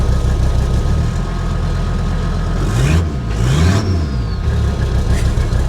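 Engine of an abandoned Toyota Supra running steadily close by, a rough, loud low rumble with a couple of brief revs rising and falling near the middle.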